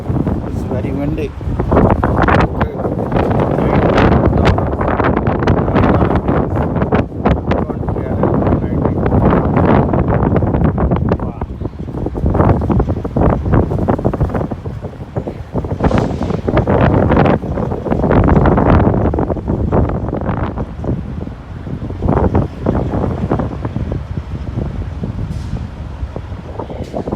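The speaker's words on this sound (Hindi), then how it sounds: "बहुत तेज़ हवा चल रही है" Strong, steady wind roars and buffets the microphone while driving through the cold, windy mountains of Wyoming, a loud broadband rush with voices faintly mixed in.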